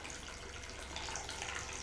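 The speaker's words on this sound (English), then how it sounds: "So again, you will see the water flowing out." Water steadily flowing out of a plastic bottle once its cap is removed in a pressure experiment, a continuous faint splashing stream heard alone, without talk.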